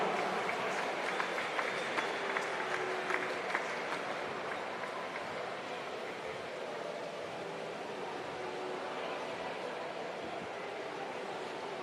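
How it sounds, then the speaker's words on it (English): Distant crowd applause for New Zealand swimmer Lewis Clareburt, 100 metres butterfly champion, at a national championship pool, a faint, steady wash of clapping that fades into hissing ambient noise. "Give him a big round of applause."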